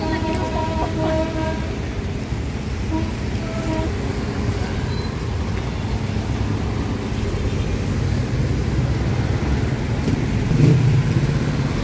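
Dense road traffic at a busy Davao City intersection, C.M. Recto corner Roxas Avenue, with a continuous rumble of car, bus and motorcycle engines and a louder vehicle passing near the end.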